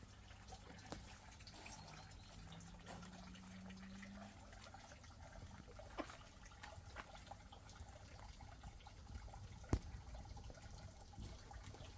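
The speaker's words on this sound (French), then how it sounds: "Alors un petit bassin avec un petit ruisseau." A small stream trickles softly into a basin in a Japanese garden, a faint, continuous watery babble with a few light drips, quiet and steady with no voices.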